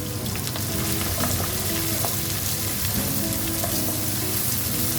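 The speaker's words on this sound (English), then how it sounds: "add onion, saute it until the raw smell goes" Onion sautéing in a pan for a creamy mushroom curry, a dense, steady sizzle and crackle of frying that continues unbroken and fairly loud, with no voices.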